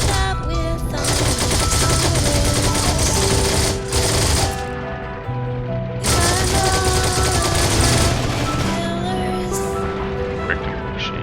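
Sustained machine gun fire in the video game Heroes and Generals, long loud automatic bursts with a brief gap, partly under a sung music track.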